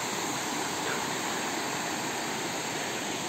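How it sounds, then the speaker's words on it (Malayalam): Waterfall at Thusharagiri roaring in a dense, unbroken rush of white noise that fills the air evenly from start to finish, with no voices over it. "നല്ല അടിപൊളി വെള്ളച്ചാട്ടമാണ്"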